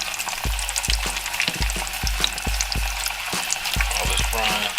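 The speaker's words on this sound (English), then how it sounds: "All this frying" Steady crackling sizzle of shrimp frying in hot oil, with repeated low thumps from stirring or handling throughout.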